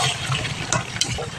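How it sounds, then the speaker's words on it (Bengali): Water splashes and gushes into a pan of cooking chicken meat for a curry, close and brief, with a couple of small knocks from the vessel. "এবার ঝোলের জন্য মাংসতে পরিমাণ মতো জল দিয়ে দেবো।"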